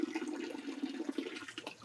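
Water dripping and trickling from a fitting on an RO/DI water filter system, a soft, steady wet patter close by, no talking.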